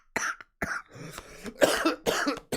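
A smoker's rough, hacking coughs in several bursts with throat-clearing, close and fairly loud, alone without talk.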